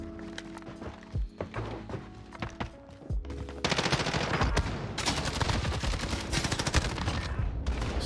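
Amax rifle gunfire in a Modern Warfare Search and Destroy match: a few scattered shots early, then sustained rapid automatic fire rattling loudly and close for several seconds.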